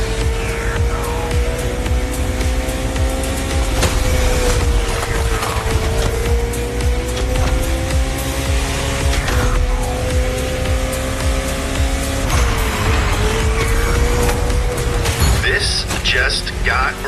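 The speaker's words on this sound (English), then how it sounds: "I think we can all agree this Koenigsegg is fast." A Koenigsegg supercar driving fast in a game, its engine droning loud and close with rising and falling revs and shifting pitch, tire squeal breaking in now and then, and voices heard over it.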